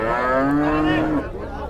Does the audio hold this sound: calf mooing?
yes